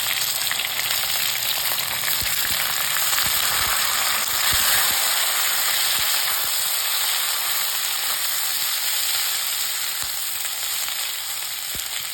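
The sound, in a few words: potatoes and green peas frying in a pan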